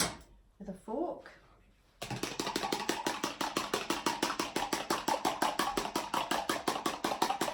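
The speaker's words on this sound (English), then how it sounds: "we'll give them a good whisk with a fork" A fork whisking eggs in a bowl for a fruit cake, rapid steady clicking strokes in an even rhythm, close and fairly loud, after a short spoken remark.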